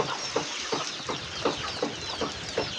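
Chickens on a rural Thai home farm clucking in a steady series of short, regular calls, about one every third of a second, close by over a faint hiss of background noise, with no talking.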